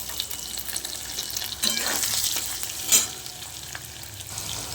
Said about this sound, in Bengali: আলুটা আমার কিছুটা ভাজা হয়েছে। এবার এখানে আমি 1 চামচ লবণ দিয়ে দিলাম।